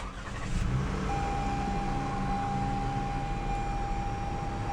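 A 2018 Toyota Sienna XLE minivan's V6 engine turns over by push-button start and settles into a steady idle with a faint high whine, close and continuous, no voices.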